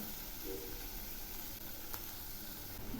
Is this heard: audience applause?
no